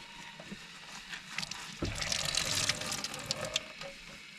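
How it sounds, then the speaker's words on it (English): A foot pump pushes water into a small sink in a 13-foot Scamp camper trailer, giving a splashing, trickling flow that swells in the middle and then fades in short spurts, close and fairly quiet. "I really like the foot pump because I don't waste a lot of water"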